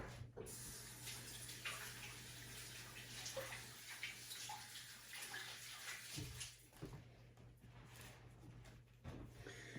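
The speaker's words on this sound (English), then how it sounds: "I'm going to rinse my fingers off real quick." Hands being rinsed under a running kitchen tap while cooking baby back ribs, a steady close stream of water splashing throughout with small shifts as the fingers move, and no talking.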